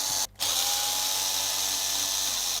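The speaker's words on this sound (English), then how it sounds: "So back to the 2 mil bit. Let's take them out." A power drill fitted with a 2 mm bit backs screws out of an ARRMA Talion V3 RC car, a steady loud high whine that stops for a split second near the start and then runs on continuously.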